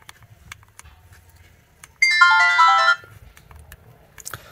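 A mobile phone plays a melodic electronic ringtone for about a second, a loud, tonal burst that stands out against quiet, faint surrounding noise.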